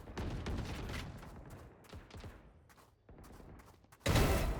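Bursts of rapid video game gunfire crackle through the first four seconds, with an uneven rhythm of shots and short gaps, then a louder dense volley erupts at the end.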